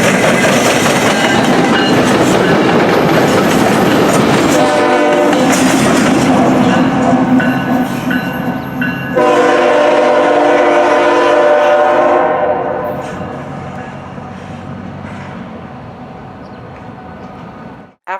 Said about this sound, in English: two CSX locomotives made their way south on the former C&O Hocking Valley line.